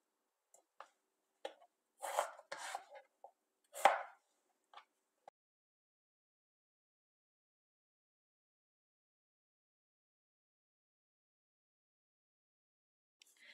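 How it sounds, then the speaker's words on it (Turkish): A knife chops peeled potatoes into large pieces on a cutting board: a handful of close, sharp thunks in an uneven cluster, then long silence with one faint tap at the end. "Ortadan ikiye bölüyorum, bir daha ikiye bölüyorum. Bunları da iri olarak doğruyorum."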